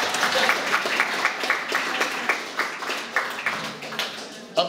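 An audience at a seniors' gathering in Hluk applauds an exhibition organiser with steady, dense clapping from many hands that fills the room, lasting throughout with a few louder claps near the end.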